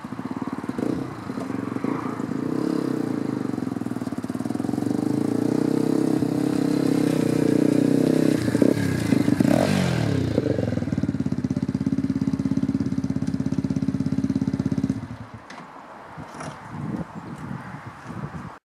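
A Lexmoto LXR 125 motorcycle from 2018 rides past, its engine note building to a loud, sustained drone before cutting off abruptly near the end, with no talking.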